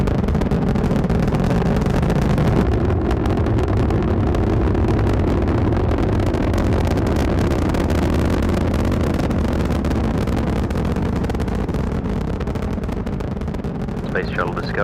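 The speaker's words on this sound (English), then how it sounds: "all engine running. Liftoff. We have a liftoff." Space Shuttle Discovery lifts off, its rocket engines producing a loud, continuous rumbling roar that fills the whole stretch while an announcer talks over it.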